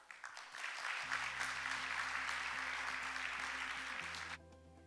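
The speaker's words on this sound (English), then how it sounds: "please join me in welcoming him with a big round of applause." Audience applause at an international financial stability conference in Korea, a broad steady wash of clapping over a low hum, lasting about four seconds before cutting off abruptly.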